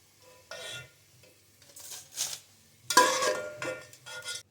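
Onions for degi korma are stirred in a pot as they fry golden, with intermittent scraping stirs and short bursts of sizzle between quieter gaps.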